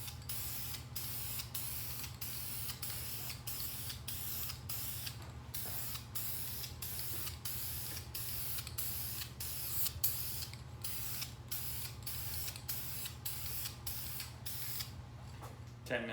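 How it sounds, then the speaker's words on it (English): A spray paint can hisses in repeated short bursts as light coats go onto vehicle hubcaps, a rhythmic series of sprays over a low steady background hum. "So I'm going to spray each one of these light coats and follow the directions."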